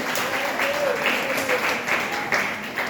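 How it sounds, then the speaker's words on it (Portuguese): A church congregation applauds in praise of the Lord Jesus, a steady wash of many hands clapping at moderate level, with a faint voice or tone threading through. "louvar ao Senhor Jesus com as palmas"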